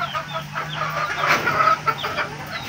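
Several chickens on a gamefowl farm cluck and chatter close by, a steady flock murmur with a few sharper clucks and no talking.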